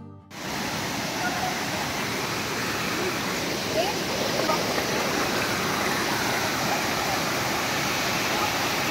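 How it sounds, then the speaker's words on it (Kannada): Bangarakusuma waterfall near Sirsi pours in a steady, dense roar of falling water, loud and continuous from start to finish after a brief quiet opening. "ಸಿಗುತ್ತೆ ಒಂದು ಸುಂದರವಾದ ಬ್ಯೂಟಿಫುಲ್"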